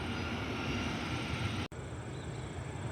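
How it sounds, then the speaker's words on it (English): American Airlines jet inbound from Dallas Fort Worth, a faint, steady broadband engine roar heard from a distance, with a brief dropout partway through. "American Airlines 2336 inbound from Dallas Fort Worth."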